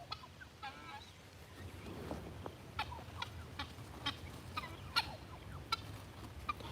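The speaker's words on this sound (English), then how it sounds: "Lurky right now is telling those grown-up guinea fowl to stay back. They're kind of fighting through the fence a little bit." A turkey hen calls at a fence against grown-up guinea fowl on the other side, giving repeated short, sharp squawks and clucks at irregular intervals over a low background murmur.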